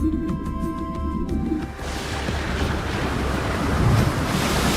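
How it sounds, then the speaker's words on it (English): Storm waves crashing at sea, a broad roaring wash of surf and wind that swells and grows louder after a brief quieter start with light tones, continuous and close. "One night, a terrible storm swept across the sea."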